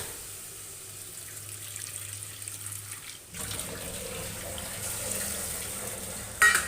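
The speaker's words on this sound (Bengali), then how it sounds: "এই ভেজে রাখা ডিমগুলো এটার সাথে দিয়ে পরিমাণ মতন জল এখানে দিয়ে দিলাম" Water is poured into a pot of egg and potato dal with fried eggs added, first a quiet low rumble, then a louder steady rushing pour that runs to the end, ending with a brief clatter.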